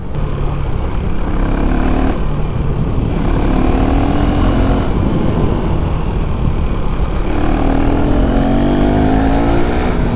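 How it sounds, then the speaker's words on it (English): A KTM 390 Duke motorcycle engine accelerating, a loud steady roar with rising and falling engine pitch as the bike speeds up repeatedly, heard close and alone with heavy wind rush. "when you accelerate it normal and you accelerate it hard, it's a different sound one"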